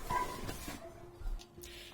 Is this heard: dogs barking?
yes